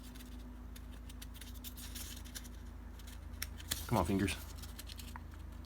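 Scissors snipping paper while cutting apart the pages of a tiny notebook folded from a single sheet, a short cluster of close, crisp cuts amid quiet room tone, with a brief murmured voice.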